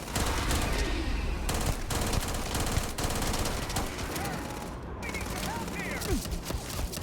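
Sustained automatic gunfire in a sci-fi shooter video game, a dense, loud rattle of rapid shots with occasional single bursts and laser-like zips, with a player's voice faintly heard.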